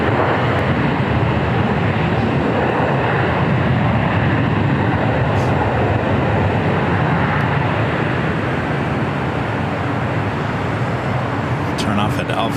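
An Airbus A330 airliner departing LAX, a loud, steady, broadband jet roar that holds nearly constant throughout with no breaks.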